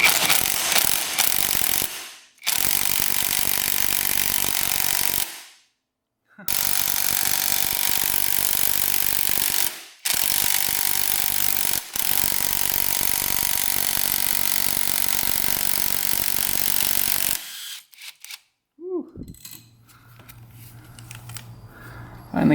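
Ratcheting and wrenching on a bolt in a three-wheeler engine, a loud close rasping ratchet run in long bursts broken by short pauses, ending with quieter clinks and handling noise.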